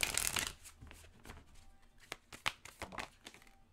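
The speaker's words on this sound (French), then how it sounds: "Je vais aller chercher maintenant une carte conseil de l'oracle Luminologie" Oracle cards shuffled by hand, a burst of riffling at the start followed by softer slides and flicks of the deck, close and quiet with no talk.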